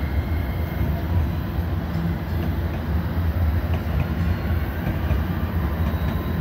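A long Z-LAM freight train with distributed power units rolls past on track one, giving a loud, steady, close rumble that fills the whole stretch without a break and with no talking.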